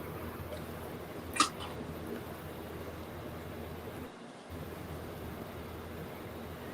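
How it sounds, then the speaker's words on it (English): A small black tailless cat gives a single brief meow at a distance, faint against a steady low background hum, with no other voices nearby. "Oh, look at the little one. Hi, cute kitty."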